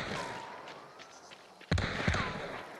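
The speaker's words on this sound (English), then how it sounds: "they're literally guys shooting at us now" A few sharp gunshots from the video game Hunt Showdown crack out after a quiet stretch, two loud reports close together near the end with faint background noise before them.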